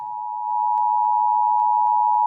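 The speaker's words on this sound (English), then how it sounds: "the attention signal is 853 hertz mixed with 960 hertz" A steady two-tone emergency alert attention signal, 853 Hz mixed with 960 Hz, sounds alone as one continuous loud tone, with faint clicks through it.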